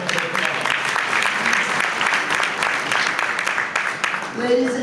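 Sustained audience applause fills a room at a pre-parade Kingdom Day Parade breakfast celebration in Los Angeles, dense steady clapping throughout with a few crowd voices, loud and close, easing near the end as a voice begins to speak.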